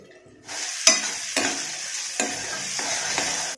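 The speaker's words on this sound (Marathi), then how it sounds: "आता हे वाटण आपल्याला एक चमचा यामध्ये फोडणीमध्ये घालायचं आहे" A spoonful of ground coconut, coriander and cumin paste hits hot oil in a tempering and sizzles loudly and steadily, with a few sharp stirring clinks and scrapes in the pan.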